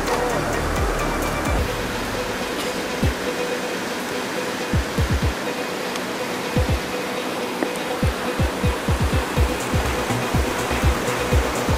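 River water at Aruvippuram pours and splashes in a continuous close roar, joined midway by a run of soft low knocks and thuds under the flow; no speech is heard.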